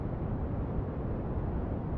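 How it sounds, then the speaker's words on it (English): Brown noise played as a sleep aid: a deep, rumbling wash of noise weighted toward the low end with a muffled top, constant and unbroken, with no one talking. "Use brown noise, which sounds like this."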